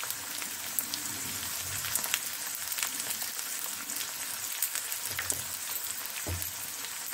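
Peeled garlic frying in hot oil, with turmeric about to be added, a steady close sizzle and crackle with occasional louder pops.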